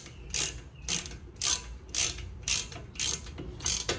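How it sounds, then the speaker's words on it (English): A 7mm socket ratchet tightening a bolt on a 2018 Ford Edge rear brake, giving seven evenly spaced bursts of rapid pawl clicking, close and crisp, with no talk. "Now we got our 7mm socket ratchet. We're just gonna tighten this."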